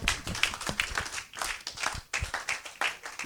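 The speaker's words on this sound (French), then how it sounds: "Est-ce que nous pouvons encore acclamer pour Jésus?" Church congregation clapping and cheering for Jesus in loud, rhythmic bursts of claps at about two or three per second, with scattered voices mixed in throughout.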